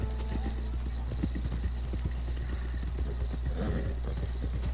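Rapid, steady clip-clop of horse hooves close by in Red Dead Redemption 2, clattering in a quick rhythm over a constant low background hum.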